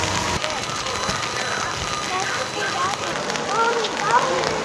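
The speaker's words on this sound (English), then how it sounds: "The rain is miserable" Heavy rain falling at Disneyland, a dense steady hiss of drops on hard surfaces close around, with people talking underneath.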